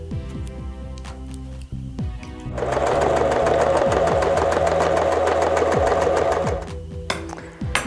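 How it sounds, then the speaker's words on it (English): A sewing machine runs a steady fast stitch along a lampshade seam for several seconds, loud and close, with a few mechanical clicks and handling noises before and after the run. "I just need to take this all off and then sew this seam right down here."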